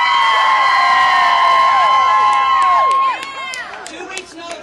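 At a Stop the War on Women protest rally, a crowd cheers and whoops loudly, sustained shouts and rising and falling cries swelling together before easing off toward the end.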